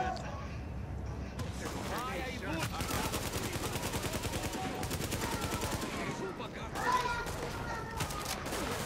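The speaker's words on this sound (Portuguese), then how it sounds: "Dar um tiro ali pra chamar eles." Rapid gunfire and bursts of automatic weapon shots from the video game The Division, repeating steadily and loudly across the clip, with players talking over the shooting.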